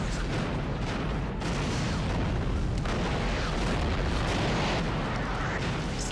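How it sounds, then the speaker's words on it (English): Bombs drop and explode in a war drama series, a dense, continuous roar of low booms and rumbling blasts that stays loud and heavy throughout with no talk over it. "I love how it's shaking as the bombs are dropping"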